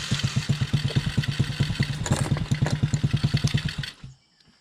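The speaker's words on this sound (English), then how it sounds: "Start it back up here." Small Chinese Coolster quad ATV engine running at a steady idle up close, a rapid regular putter with a brief stutter midway, then cutting off abruptly near the end.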